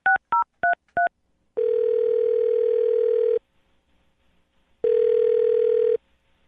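Four quick dialing beeps, then two long ringback tones separated by silence, clear and close on a phone line.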